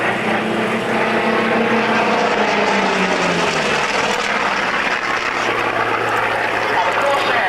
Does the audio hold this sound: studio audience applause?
no